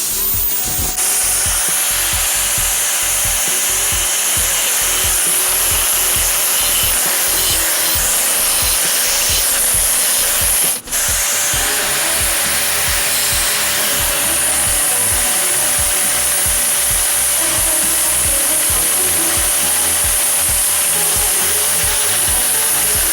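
A tool cuts bamboo to shape for a homemade water fountain, producing a loud, steady, harsh grinding rasp that runs without a break throughout, with one brief sharp dip partway through.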